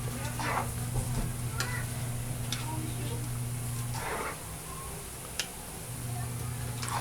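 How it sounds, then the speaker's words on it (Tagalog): Pancit canton bihon sizzles and fries in a pan while it is stirred, giving scraping and clinking utensil strokes over a steady hiss and a constant low hum, close up. "haluin natin guys lahat ng maigi para masaturate yung mga ingredients nya dyan sa ating niluluto"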